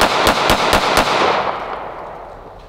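Rapid 9mm pistol shots fired at a microwave, about five sharp loud cracks in quick succession in the first second, then a long ringing, fading echo.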